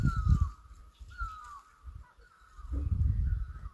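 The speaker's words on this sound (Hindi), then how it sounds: "ये है म्योई की आवाज़।" A myoli bird calls at dusk in a Pahadi hill village, its repeated high, drawn-out cries standing out clearly over rustling, low background noise.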